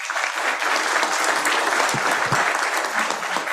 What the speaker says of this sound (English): we gave him a round of applause as well